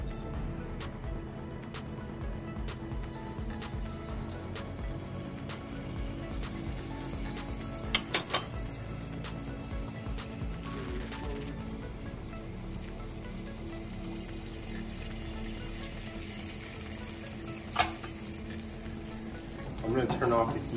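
Eggs frying in melted butter in a Lodge cast iron skillet give off a steady soft sizzle throughout, with a few sharp clinks along the way and a voice talking over the cooking.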